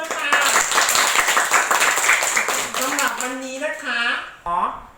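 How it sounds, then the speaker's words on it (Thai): A classroom of students at a Thai school claps together in a brisk burst of close, dense applause, which fades as a voice begins speaking over the tail end. "ปรบมือ"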